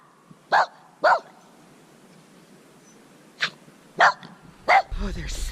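A dog barks outdoors in snow, giving five short, sharp barks spaced irregularly over a few seconds against quiet background, with a low rumble at the end.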